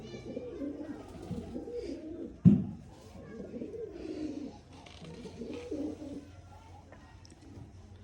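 Several pigeons cooing in low, throaty rolling phrases, close by, with a sudden thump partway through and soft background rustling.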